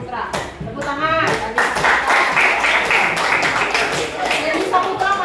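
Students in a classroom clap for a classmate, a few scattered claps building into a steady round of applause, with voices talking over it.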